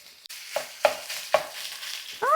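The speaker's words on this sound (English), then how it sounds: "We're going to add half of our beef." Ground beef frying in a pan, with a steady soft sizzle broken by several sharp scraping stirs of a utensil across the pan bottom, close and fairly loud with no talking.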